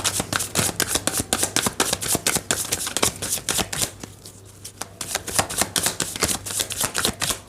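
Tarot cards are shuffled by hand in quick, crisp bursts of riffling and tapping, close and fairly loud, with a short lull midway and a faint steady low hum underneath.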